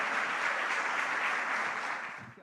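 An audience at an evangelical church service applauds together in steady, dense clapping, loud and sustained before tapering slightly at the end, with no voices over it.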